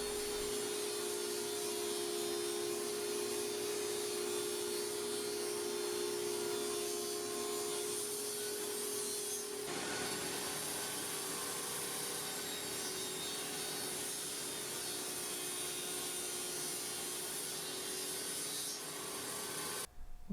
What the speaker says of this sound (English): I ripped them to their final width.